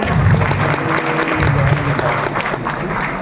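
Loud, sustained applause from the audience at an All India Mushaira Urdu poetry gathering in Lucknow, a dense continuous roar of hands with some crowd noise underneath.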